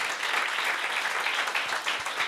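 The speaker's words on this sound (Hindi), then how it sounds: "ताली बजानी है तो ठीक बजाओ" A church congregation at a Sunday morning service claps together, a steady, dense wash of applause from many hands throughout.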